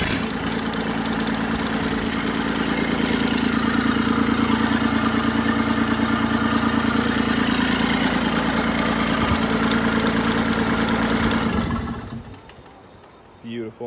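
Kubota L2501 tractor diesel engine after an injection pump timing and fuel screw adjustment, running at a steady rumbling idle for about twelve seconds before shutting off.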